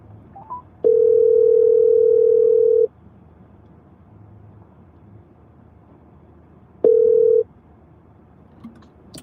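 A telephone tone sounds while a radio host calls back a listener: one steady two-second tone, a pause, then a second shorter tone, loud and clean over faint background hiss.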